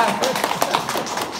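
People clap their hands in a brisk, uneven burst at a close family gathering, the claps fairly loud and near, with voices talking over them.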